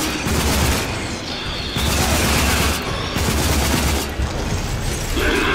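Rapid bursts of gunfire crackle in quick volleys with brief pauses between them, loud and close, like automatic weapons in a firefight in the video game RAGE.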